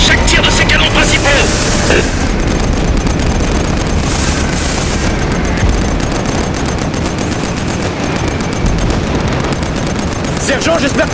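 Heavy cannon fire and constant gunfire in a Killzone 3 battle, a dense roar of booms and rattling shots that barely lets up, with voices shouting now and then over the din.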